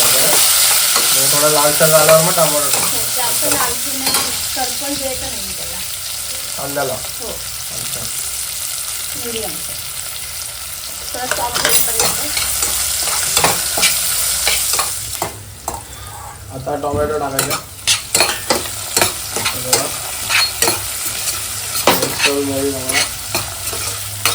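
Chopped onion and tomato are stirred and fried in a pan for vada sambar, loud repeated spatula scrapes and clanks over a constant sizzle, with brief voices in places.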